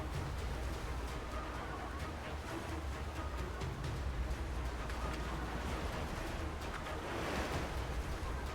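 Ocean waves and rushing wind surround a sailing ship at sea in Bannerlord: War Sails, a continuous, even wash of surf with a low rumble underneath and no voices.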